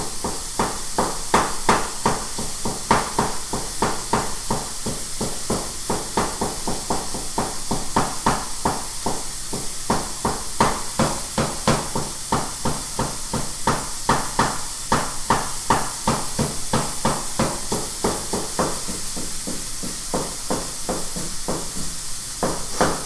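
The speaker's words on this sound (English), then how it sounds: "tapping your pan, hitting your pan like this is bad for it" A wooden spatula tapping repeatedly on a frying pan, giving rapid, fairly loud, regular knocks over a constant background hiss of cooking.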